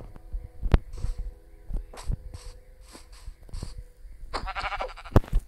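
Sheep bleat several times in short, irregular calls, close and fairly loud, with a few sharp knocks and thuds between them and a longer bleat near the end.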